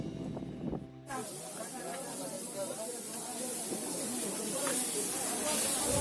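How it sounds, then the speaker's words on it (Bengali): Fish frying in hot oil at a beach shack in Mandarmani gives a steady, close sizzling hiss that begins abruptly and holds at an even, slightly rising level throughout. "এখানে মাছ ভেজে দিচ্ছে"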